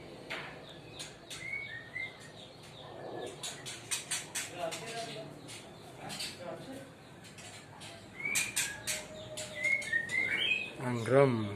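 Green leafbirds chirp and whistle at a bird breeding farm, bright scattered calls, some near and some farther off, under background noise and someone talking.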